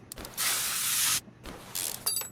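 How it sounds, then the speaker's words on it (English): Spray cleaner or paint is applied to a part of a 1300 hp drag-racing car: a long steady hiss of about a second, then a shorter burst and some light clicks, close and without talking. "we're going to have to spray this one right here"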